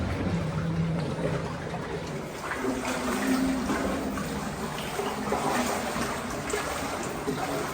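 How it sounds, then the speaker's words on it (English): Spring water from the Gihon Spring flows through the narrow rock-cut Hezekiah's Tunnel in Jerusalem, a steady splashing trickle and slosh echoing in the enclosed passage, with faint voices mixed in. "The water is quite clear as it still flows from the Gihon Spring today."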